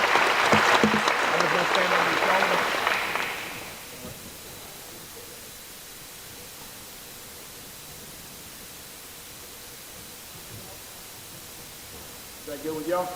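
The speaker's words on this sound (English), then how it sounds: "give Coach Brumbelow and Coach Walker a round of applause" Audience applause at a high school signing day ceremony in a gym or auditorium, a dense, loud wash of clapping for about four seconds that then fades into quiet room tone, with a voice starting up at the very end.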